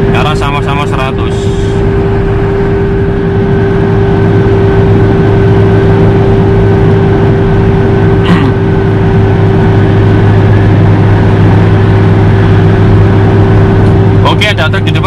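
Steady engine drone and road rumble from a Toyota Kijang cruising at 100 km/h on a toll road, constant and loud throughout, with a person talking over it.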